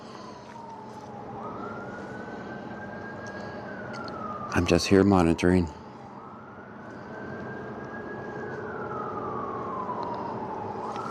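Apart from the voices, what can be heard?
EMS sirens in the distance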